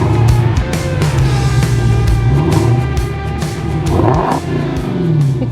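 A car engine growls and revs up and down in a throaty roar, loud and close, with no voices.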